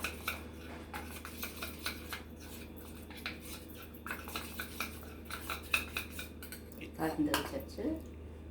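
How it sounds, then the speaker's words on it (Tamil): Maida flour and ghee are mixed in a bowl with a spoon, making soft repeated scraping and light clinks of metal on the bowl in an uneven rhythm, growing busier toward the end. "இதில் நெய் கலந்து ரெடியாக கலந்து வச்சுக்கலாம்."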